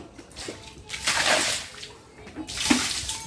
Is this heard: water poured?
yes